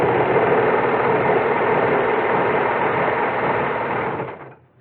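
A Brother 4031 serger sews curtain fabric with a steady, fast mechanical whir and rattle, running continuously up close before winding down and stopping at the end.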